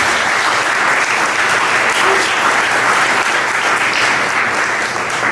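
A book presentation audience in Puerto Rico breaks into loud, dense applause, a continuous wash of clapping that stays even and close throughout without any voices over it.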